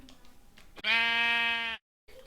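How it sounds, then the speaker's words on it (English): A single Minecraft sheep gives a clear, sustained bleat of about a second, close and fairly loud, after a few quieter sounds and followed by brief silence. "this is literally a natural pink sheep"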